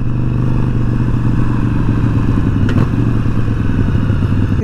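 Harley-Davidson Iron 883 motorcycle with a small wind fairing cruising on the road, its steady low engine rumble and wind roar continuous and loud throughout, with a brief clatter midway.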